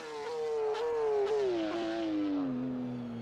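Race car exterior engine sound from the rFactor 2 racing game, a steady buzzing drone that slowly drops in pitch as the revs fall, heard alone without talk.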